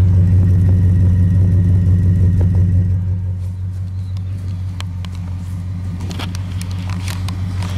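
Original exhaust on a restored 1974 Dodge Charger LS rumbles steadily and close by. The engine eases slightly lower partway through, then holds a deep, even idle with faint clicks and no talk.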